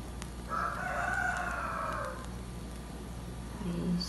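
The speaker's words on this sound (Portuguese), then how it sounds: "E olha aí nosso amigo galo cantando aí." A rooster crows once at middling distance, a long clear cock-a-doodle-doo rising and fading over faint background hum, with a brief clucking note just after.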